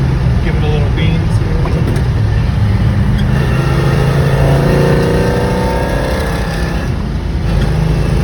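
Pontiac GTO with Tri-Power carburetion and a 4-speed, accelerating while driving: a loud, steady engine rumble and rising drone heard from inside the car, with road and wind noise throughout.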